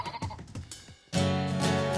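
A sheep bleats in a long, loud, sustained call that cuts in suddenly after a quieter stretch of softer, scattered sounds.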